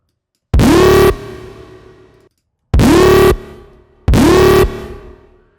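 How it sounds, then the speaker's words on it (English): Three bright synth stabs from Serum 2, each a sustained distorted chord that cuts off into a long shimmering reverb tail in nitrous mode, the first hit decaying alone before two more follow in quick succession. "when I add reverb, I want the reverb to feel like it's part of the whole sound"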